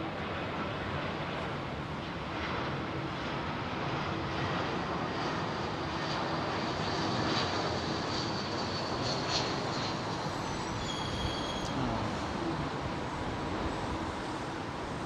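An Emirates A380 airliner on landing approach at London Heathrow, a steady broad roar of jet engines that swells slightly and holds throughout, distant and continuous with no talk.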